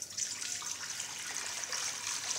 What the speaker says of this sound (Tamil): இதில் வந்து 1 லிட்டர் தண்ணி சேர்த்து நல்லா கொதிக்க விடலாம்